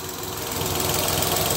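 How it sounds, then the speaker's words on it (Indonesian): The engine of a Datsun Go+ family car idling under an open hood, heard up close as a steady, dense mechanical hum and clatter with a faint tick, with no talking. "Oh mesinnya halus guys halus tak tersuara"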